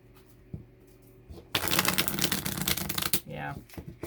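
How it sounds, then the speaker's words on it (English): A cheap knockoff tarot deck with thin cardstock being shuffled: a quiet pause, then a dense, fast riffle of cards lasting about two seconds, followed by a brief murmur of voice. "I'm going to shuffle this fake deck."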